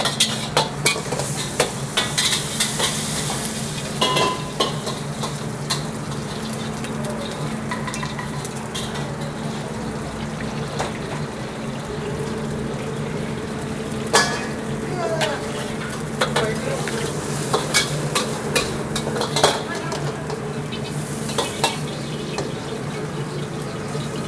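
Mie goreng kampung noodles are stir-fried in a busy restaurant kitchen: a continuous sizzle broken by sharp, irregular scraping and clanking of the utensil, with running water in places.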